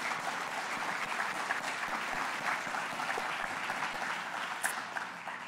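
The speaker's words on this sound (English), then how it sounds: "one more round of applause for John" A luncheon audience gives John a round of applause, a steady, even wash of many hands clapping that holds at moderate volume from start to finish with no talk over it.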